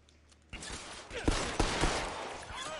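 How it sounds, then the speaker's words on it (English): Gunfire in the VR game L.A. Noire: The VR Case Files, where a sudden burst of shots opens a dense stretch of rapid, overlapping reports with two louder cracks standing out. "every time I die around here, because I get shot and I don't know who I'm being shot by"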